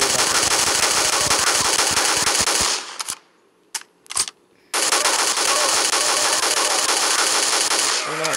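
Rapid automatic gunfire in a zombie shooter video game, a dense loud burst lasting several seconds, a brief lull with a few isolated shots, then another sustained stream of rapid fire.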